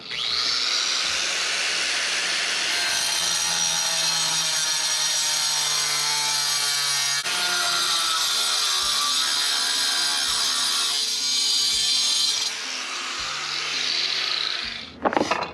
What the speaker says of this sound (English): a grinder with a cutoff blade is going to be the easiest way to do this